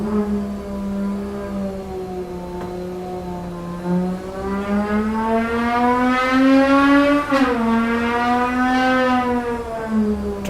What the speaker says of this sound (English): I think the dyno driver needs to work on his throttle blipping a little bit on the downshift.